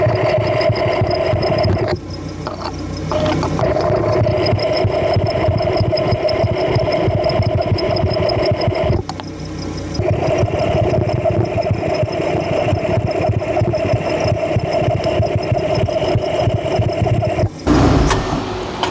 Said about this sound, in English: It sounds like this little tensioner under here.